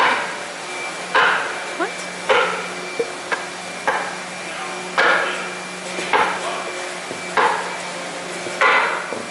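Repeated hammer blows smack a part to square it up, about a dozen sharp knocks at an uneven rhythm, close and fairly loud, with a person speaking briefly between strikes.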